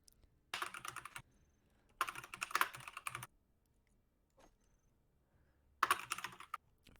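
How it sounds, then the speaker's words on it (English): Fast, furious typing on a computer keyboard in three dense bursts with quiet gaps between, close and clear with no talk. "Furious typing."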